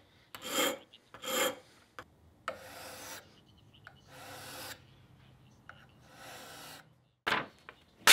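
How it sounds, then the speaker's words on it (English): Files drawn across the edge of an aluminum bronze knife blade, several separate rasping strokes with short pauses between them, close and fairly loud, with no talk. "to do that, I used some files and a diamond-coated sharpening steel."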